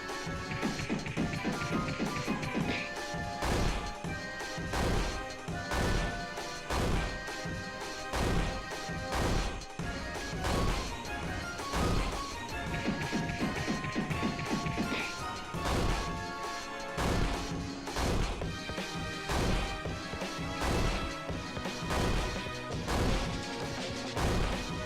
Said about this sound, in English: gets a bunch of head smashes in